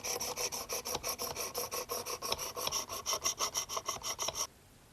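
A knife is drawn back and forth across a 600 grit plate on a Work Sharp Precision Adjust sharpener, about two dozen quick, even rasping strokes in a steady rhythm, close and clear, then it stops.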